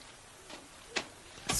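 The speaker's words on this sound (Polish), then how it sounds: "Kropelki kapią kap, kap," Three separate water drips land one after another, sharp little taps in an otherwise quiet space, the last one the loudest.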